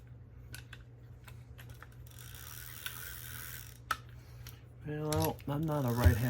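A freshly serviced and greased fishing reel is cranked by hand, giving soft ratcheting gear clicks close up, after which a voice talks over it.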